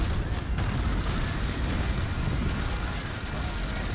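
Broadside cannon fire from a wooden sailing warship in the Naval Action game, loading grape shot, a sustained thunderous rumble of overlapping booms with a sharper crack early on, loud and close.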